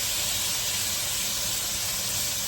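Cabbage stir-frying in hot grapeseed oil gives a loud, steady, close sizzle and hiss that runs unbroken throughout.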